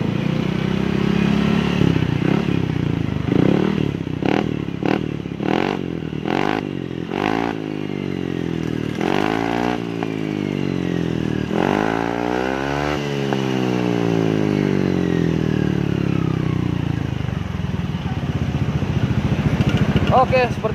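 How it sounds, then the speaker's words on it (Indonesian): A Yamaha scooter's SKR racing exhaust is revved in a series of sharp bursts, then held in longer rising and falling revs before dropping back to idle, loud and close. "seperti itulah suara knalpot SKR untuk standar racing di"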